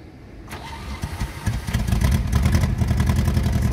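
A ZAZ-965 Zaporozhets 'Gorbaty' car engine cranks and catches after years of disuse, settling into a steady, close, rattly idle that grows louder and holds, with no talk over it.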